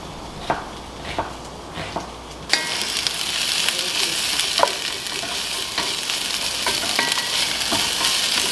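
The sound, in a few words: onions and peppers frying in a pan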